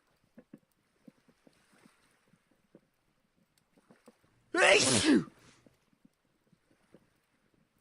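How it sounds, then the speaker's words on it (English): A single loud sneeze bursts out close to the microphone, standing alone against faint scattered clicks and taps in a quiet Minecraft-style block survival game. "Oh, I'm gonna sneeze"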